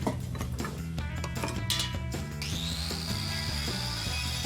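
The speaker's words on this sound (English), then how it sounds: "I'm just burnishing these." A power tool burnishes rusty old industrial cinema lights, whirring loudly with a gritty scraping against the metal, then rising into a steady high whine as it spins up.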